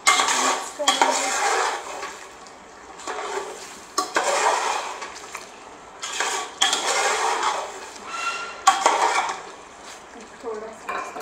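Chicken korma being stirred in a metal pot with korma masala, a spoon scraping and clattering against the sides in steady repeated strokes, close and fairly loud.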